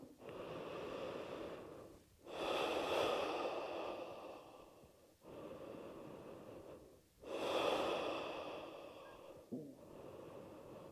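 Slow, deep breathing during an ashtanga yoga practice, long drawn inhales and exhales alternating in a steady rhythm, close and soft, ending with a short sharp intake, with no talking.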